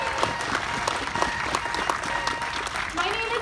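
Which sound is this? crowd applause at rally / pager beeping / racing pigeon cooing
crowd applause at rally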